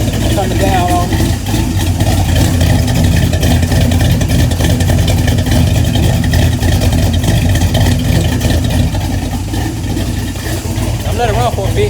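An adjusted car engine runs steadily at close range with a loud, rough rumble and irregular pops. A voice talks over it at times.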